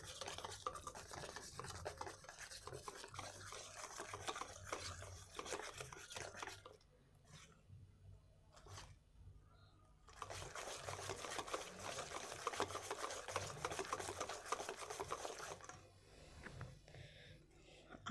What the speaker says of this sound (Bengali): এভাবে ব্যাটারটা ঘুরিয়ে ঘুরিয়ে ভালো করে ফেটিয়ে নিতে হবে।